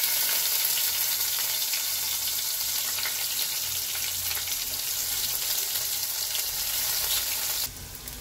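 Chopped onions fry with garlic and green chilies in a pan, giving a steady, moderate sizzling hiss that runs unbroken until it drops off abruptly near the end.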